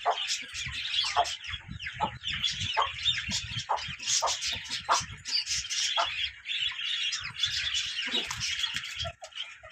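Hens cluck repeatedly close by while chicks chirp in a busy, high-pitched chorus that runs throughout.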